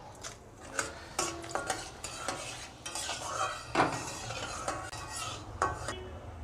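Split dried red chillies drop into hot oil in a pan for a Bengali fish dish, and a soft sizzle runs beneath repeated clinks and scrapes of a spoon stirring against the metal pan.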